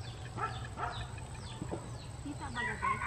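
Several soft chicken clucks and short calls scattered over a few seconds, fairly faint against a low background hum.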